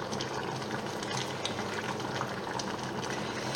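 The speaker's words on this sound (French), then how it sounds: "on va laisser cuire nos paupiètes de veau tranquillement" Veal paupiettes simmering in sauce in a pot: a steady, close bubbling and sizzling hiss that holds even throughout with no pauses.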